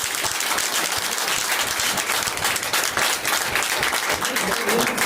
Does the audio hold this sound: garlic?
no